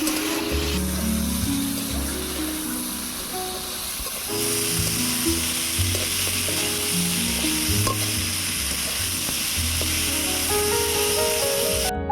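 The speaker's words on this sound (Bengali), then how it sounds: "পটলটাকে এবারে ভালো করে ভেজে নেব" Pointed gourd (potol) frying in a pan with salt and turmeric, a steady close sizzle with stirring throughout, music playing underneath and no talk.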